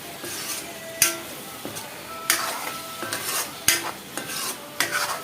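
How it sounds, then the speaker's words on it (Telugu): A spoon stirs vegetables with coriander and curry leaves frying in a pan for a Banjara dish, giving sharp scrapes and clinks against the metal at irregular intervals over a soft, steady sizzle. "కలిపేసేసుకుందామండి ఒకసారి."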